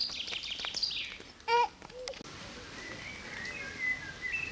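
Birds chirping and calling, a few clear bright notes early on, then fainter twittering in the background.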